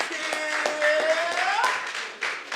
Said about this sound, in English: Keep on clapping till she gets here.